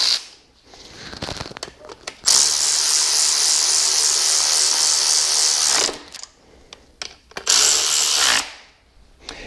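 Sump bolts are tightened with a power tool, a loud steady whirring burst lasting a few seconds, then a brief pause and a second shorter burst, close up with no talking.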